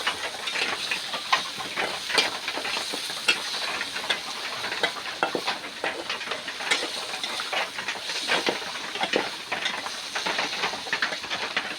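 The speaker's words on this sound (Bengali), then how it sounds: "রসুন পেঁয়াজ দিলাই।" Garlic and onion sizzle in a hot pan of cooked greens in a village kitchen, a steady close hiss with crackling spits and pops that keeps going throughout, with no voice over it.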